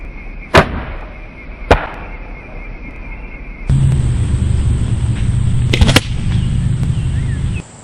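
A 125-grain broadhead arrow shot from a bow outdoors, heard as sharp snapping releases followed by a louder rushing thud and a sustained roar, close and loud.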